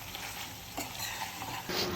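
A spoon scrapes and stirs chicken kharda in a pan over a soft, constant sizzle, with a couple of brief clinks.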